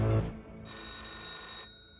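A telephone bell rings loudly and alone for about a second, in a bright sustained burst that starts suddenly and then stops, with a low thump just before it.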